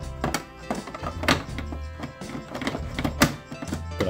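Plastic parts click and thunk together in a series of short, close knocks as the legs, mouth and cannon of a Thundercats Thundertank toy are snapped shut one after another.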